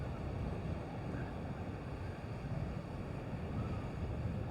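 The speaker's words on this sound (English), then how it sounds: "Good breeze in my face. Onshore wind." Onshore wind buffeting the microphone with surf washing in at Newton Beach in South Wales, a continuous low roar that stays steady and unbroken with no talking.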